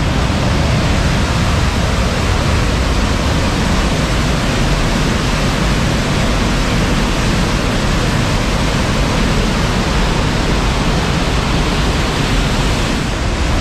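Abbey Falls waterfall in Madikeri, Coorg, a broad continuous roar of rushing water, loud and steady with no pauses or voices.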